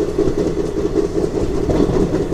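A train rolls into Duvvada station with a loud, steady low rumble and a rhythmic throb of wheels on track, close and continuous.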